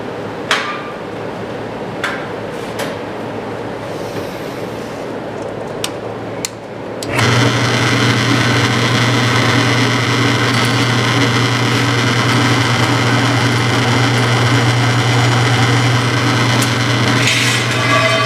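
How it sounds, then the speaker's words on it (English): Scattered taps and knocks give way to a loud, steady electric drill whine, drilling holes in a metal golf cart rocker panel, running continuously to the end. "Punched them, and now I'm going to drill them."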